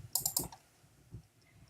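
Mouse clicks on a computer, a quick cluster of three or four sharp, light taps close to the mic followed by a fainter single click, all in a quiet room.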